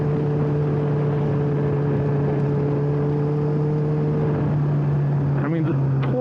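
A 2009 Honda CBR1000RR Fireblade superbike engine holds a steady loud drone throughout, with a rising rev burst near the end; someone talks over it.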